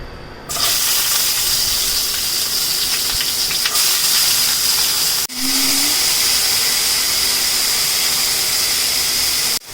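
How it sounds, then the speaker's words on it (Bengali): Sliced bitter gourd hits hot oil in a frying pan with a loud, steady hiss that runs for several seconds, breaks off briefly, then resumes just as strong. No one speaks. "করলা মশলা রান্না করার জন্য ফ্রাই প্যানে তেল দিয়েছি, গরম হয়ে গেছে। এখন করলা দিয়ে দিচ্ছি।"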